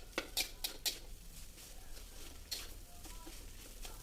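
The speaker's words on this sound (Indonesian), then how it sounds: "Tinggal kalian aduk-aduk." Green nasi goreng, seven portions of fried rice, is stirred in a wok over high flame, with a few quick metallic scrapes and clinks at the start over a faint, steady sizzle.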